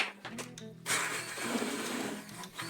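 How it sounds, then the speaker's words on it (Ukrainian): A blender whirs loudly as it purées a lean bean pâté with smoked paprika, curry and other spices, the motor kicking in under a second and running steadily, close up and with no one talking. "беремо блендер та перебиваємо"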